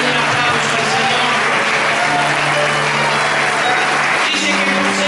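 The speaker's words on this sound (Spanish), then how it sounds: "Alguien dé un aplauso al Señor." A church congregation applauding, a continuous, loud roar of clapping sustained for roughly five seconds, with sustained tones and crowd noise blended underneath.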